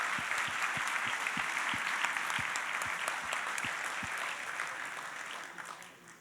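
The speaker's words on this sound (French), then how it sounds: "j'aimerais qu'on fasse un tonnerre d'applaudissements pour tous les gens qui rendent cet événement possible." Thunderous audience applause at an IT conference keynote, dense and sustained clapping from a large crowd that thins slightly and fades toward the end.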